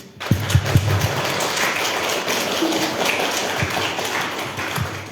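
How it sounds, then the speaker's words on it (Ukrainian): Audience applause at the opening of Marianna Savka's first professional art exhibition, "Angels and Flowers": a steady, dense patter of many hands clapping that continues for about five seconds, moderately loud, with a few sharper claps near the start. "слова варті неймовірних аплодисментів"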